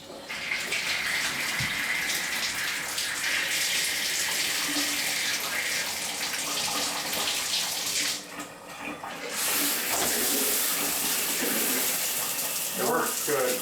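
Water gushes steadily from a newly installed bathtub spout in a mobile home bathroom, a loud continuous stream that briefly dips and then resumes at full force.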